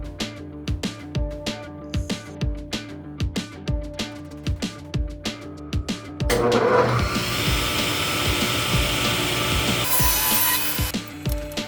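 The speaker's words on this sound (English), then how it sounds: "a quick clip of me raising the table saw blade to the right height" Rhythmic hand-sawing strokes rasp steadily, then a loud table saw starts and whines continuously as it cuts a glitter pen-turning blank in half, with no talking.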